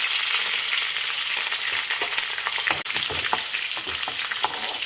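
Peanuts and curry leaves crackle and sizzle in hot tempering oil, a dense steady frying hiss with scattered pops and stirring scrapes, close and continuous without any voices.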